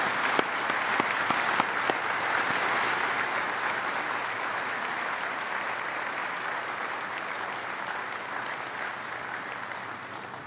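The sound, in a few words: applause at a graduation ceremony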